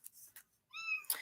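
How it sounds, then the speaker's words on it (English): Kittens mewing indoors: two faint short cries early on, then a clearer, longer high-pitched meow toward the end, quiet and close with no talking. "I do have kittens in here, so you will probably hear them crying off and on."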